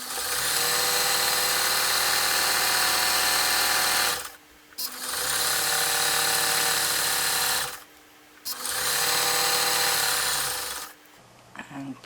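Sewing machine stitching across the top of a canning mat, three long steady runs of loud mechanical whirring broken by brief stops.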